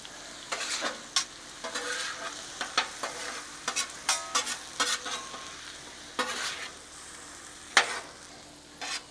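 Onions and steak sizzling on a grill, seasoned with salt, pepper and garlic, the onions charring and caramelizing; close, crackling sizzle with repeated scraping, stirring strokes at an irregular rhythm, no talking.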